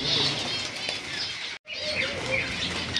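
Caged java sparrows and lovebirds flutter and chirp at a bird sale, a dense, close wash of wingbeats and high twittering that drops out for an instant and then returns just as busy.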